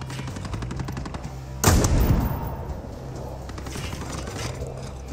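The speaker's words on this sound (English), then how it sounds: "this G28 with the new sound is just an amazing joy to shoot" Rifle fire from a G28 in the shooter game Ghost Recon Breakpoint, with one sharp, loud shot ringing out and echoing over a steady rumble of ambient game noise and faint distant shots.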